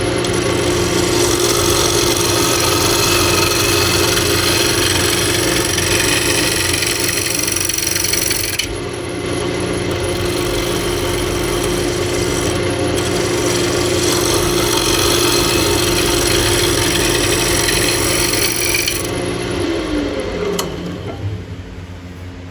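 A scraper works an Osage orange and walnut bowl turning on a wood lathe, giving a steady, loud grinding hum with a brief dip partway through and a fade as the lathe winds down at the end.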